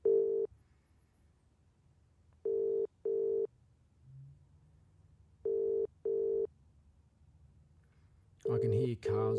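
An incoming phone call tone sounds as a series of clear electronic beeps, one alone and then in spaced pairs, with a voice starting up at the very end.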